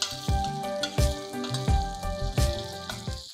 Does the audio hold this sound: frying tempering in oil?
yes